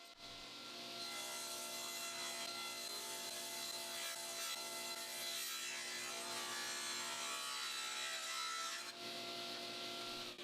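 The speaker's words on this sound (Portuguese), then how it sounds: "na serra de bancada, eu posso cortar em várias tiras" Wood is ripped into strips on a table saw, giving a continuous high whine and rasping cut that runs for most of the stretch, starting abruptly and dropping off near the end, close and steady.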